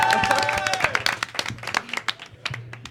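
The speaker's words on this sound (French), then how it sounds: "On l'applaudit." A small group of people clapping at an improvised student web radio launch, scattered uneven claps that thin out toward the end, with voices talking over the start.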